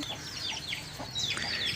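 Roosters and hens of a fighting breed on sale cluck in short, scattered bursts, with several birds calling at moderate distance over quiet background noise and no speech.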